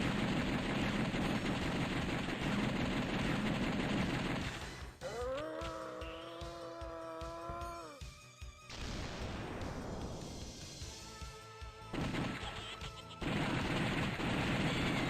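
Gunfire from The House of the Dead arcade game: rapid bursts of shots in a brief rattling run, mixed with electronic game effects, tones and explosions over a loud continuous game soundtrack.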